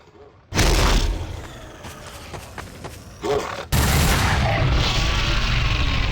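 Gunfire with normal bullets in Garry's Mod, heavy booming bursts of shots that start loud, drop to sparser bangs, then return in a loud, sustained volley near the end, with no talk.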